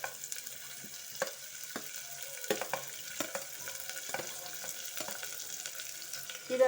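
Onions frying in hot oil in a pot for a one-pot chicken biryani, a soft steady sizzle with several sharp stirring clicks and scrapes spaced through the clip, fairly quiet and close.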